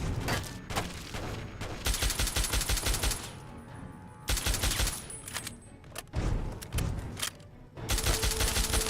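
Bursts of rapid automatic gunfire in Fallout 3 come in several long volleys separated by brief lulls, loud and close.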